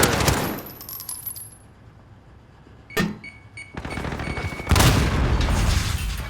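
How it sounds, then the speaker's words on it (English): A grenade explosion during an XP League esports match, with a loud burst at the start, a quieter lull, a sharp crack midway and another heavy boom toward the end, all without talk. "I don't know if that grenade actually hit Young Justice there"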